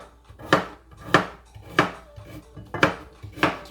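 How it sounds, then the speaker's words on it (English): A knife chops carrots on a cutting board in six evenly spaced, sharp, close knocks, each a crisp thud with a brief ring, alone with no talking. "I'm gonna cut up my carrots."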